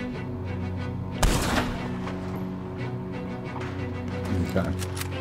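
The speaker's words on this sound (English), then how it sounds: "Who's shooting at her now?" A single loud gunshot in Red Dead Redemption 2 cracks out over a steady game soundscape, followed a few seconds later by a fainter second report.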